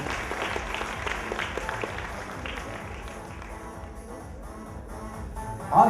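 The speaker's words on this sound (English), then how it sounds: "let's give a huge round of applause for all the teachers who are behind us" Applause for teachers at a Hindi school function sounds as scattered clapping in a hall, mixed with background music and crowd noise, tapering off before a sudden loud knock at the end.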